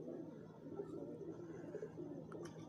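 Low, throaty cooing from a captured pigeon murmurs on continuously at a soft level, with no voices present.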